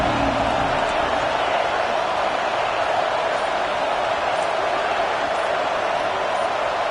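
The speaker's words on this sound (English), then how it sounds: "And with this place rocking, the crowd forces a false start." A college football stadium crowd at Northwestern versus Iowa roars continuously, a dense, loud, steady wall of noise that holds unchanged throughout.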